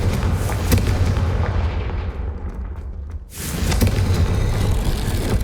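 A loud fiery spell explosion from Hogwarts Legacy booms and rumbles, a muffled swell midway, then a renewed roaring blast continuing to the end.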